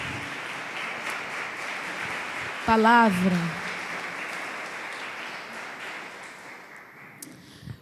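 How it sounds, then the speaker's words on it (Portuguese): Congregation applause in a church service, a steady wash of clapping from a gathered crowd with a brief voice cutting in midway, fading gradually toward the end. "Você que pode aplaudir a Jesus, faça isso."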